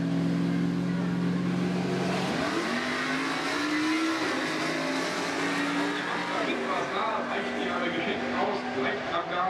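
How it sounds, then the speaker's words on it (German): Four-wheel-drive turbo Audi drag car launching at the Hockenheimring, engine note rising through several quick gear changes as it pulls away, loud with an announcer talking over it. "Der 4-Wheel Turbo Audi sind auf den Hockenheimring."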